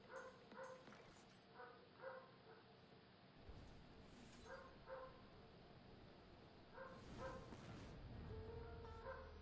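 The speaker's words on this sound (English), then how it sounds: "Yeah, it's actually not my dog. It's the neighbor's dog." A neighbor's dog barking in short yappy bursts, several barks in quick clusters with gaps between, somewhat distant and moderately loud over a faint noisy background.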